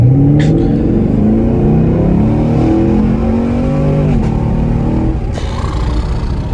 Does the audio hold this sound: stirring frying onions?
no